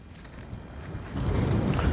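Wind blows steadily across an open garlic field, a broad rushing noise that swells and grows louder partway through, with no voices over it.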